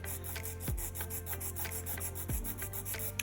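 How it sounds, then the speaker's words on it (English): A file rasps across acrylic nail tips in quick, repeated back-and-forth strokes, close and steady, with faint knocks between some of the strokes. "Let me do some filing and try to get it to match."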